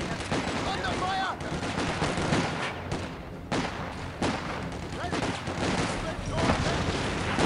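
Steady gunfire from Company of Heroes 2, with sharp shots, machine-gun bursts and artillery thuds, rolls through a busy battle, mid-loud and continuous, with brief game voice callouts.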